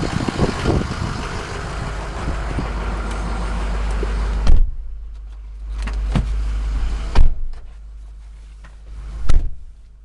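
A 2007 Ford F350 King Ranch crew cab diesel pickup on a test drive gives a loud, steady rumble for a few seconds, then drops to a quieter cabin hum broken by several dull thumps and clicks, with no voices.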